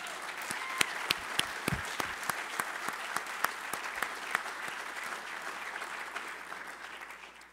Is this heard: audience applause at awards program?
yes